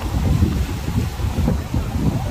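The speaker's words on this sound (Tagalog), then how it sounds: "Mahangin nga talaga." Steady wind buffeting the microphone at a lakeside park, a continuous low rumble with gusty swells throughout.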